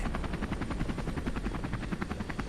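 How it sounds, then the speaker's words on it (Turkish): Military helicopters bringing special operations teams down into the Bayraktepe area during the 2008 Aktütün outpost attack produce a steady, rapid thudding of rotor blades, moderately distant and continuous with no voices. "Saat 10 sularında 3 helikopter daha özel harekat timlerini Bayraktepe bölgesine indirdi."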